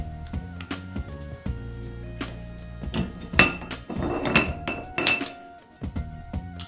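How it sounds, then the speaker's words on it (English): A poppet valve is pulled out of a hydraulic accumulator, giving a series of sharp metallic clinks, taps and scrapes at close range, busiest in the middle, with short pauses between. "now we can pull the poppet valve."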